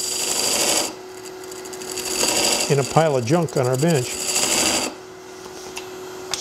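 Steady whirring hum of a wood lathe turning a wooden mallet, with scraping tool noise as a bead is cut; a person speaks briefly over it midway.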